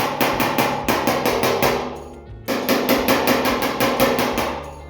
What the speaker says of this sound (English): I'm using a hammer and dolly to take out any of the dents